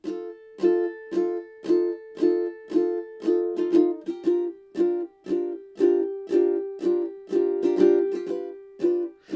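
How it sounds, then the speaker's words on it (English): Muted strumming on a ukulele, a steady chunky rhythm of short damped strokes repeating about every half second, close and clear with no talking. "So what I like to do is I like to do a kind of a muted strum."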